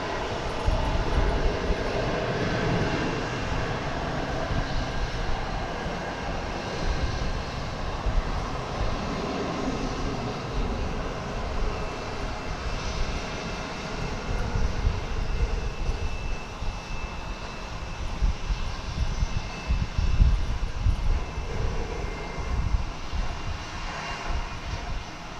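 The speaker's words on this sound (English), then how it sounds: "737-800. It's off to departure" A Boeing 737-800 jet departing DFW Airport, its engines a steady, loud broadband roar that holds throughout with a slow rumbling swell, heard from a spotting position with no talk.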